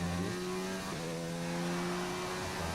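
A Formula-style race car engine in a racing video game on the Azerbaijan circuit drones at steady pitch, briefly dipping and recovering as revs change, loud and close with no talking.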